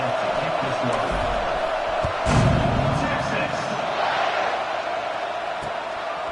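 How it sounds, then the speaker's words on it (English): A college football stadium crowd buzzes after a score against Texas A&M, a broad steady roar with a brief swell of cheering, heard under a commentator's voice. "this crowd is buzzing after that last score"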